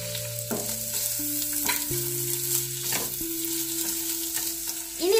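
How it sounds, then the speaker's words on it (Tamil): Carrot pieces sizzle in hot melted ghee while being stirred, a steady close frying hiss with scraping stir sounds, set against soft background music. "இனி இதுல நம்ம ஃபர்ஸ்ட் கேரட் போட்டுக்கலாம்."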